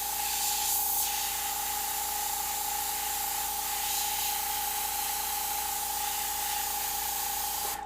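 An airbrush fed by a large studio compressor gives a loud, steady, continuous hiss of spray, close up and unbroken throughout, with a faint tonal hum beneath.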